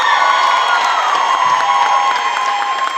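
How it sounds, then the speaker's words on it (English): Convention panel crowd applauding, cheering and whooping loudly, shrill voices rising over a dense patter of clapping in a packed hall. "A round of applause, please."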